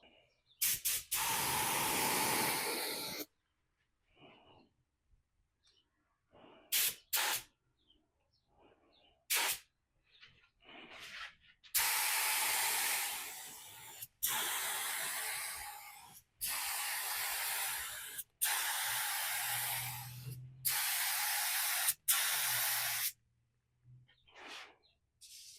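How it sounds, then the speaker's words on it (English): Rustoleum multi-tone spray paint hisses from an aerosol can in repeated bursts of several seconds each, separated by pauses and a few short taps. "I don't think my spray technique is very good"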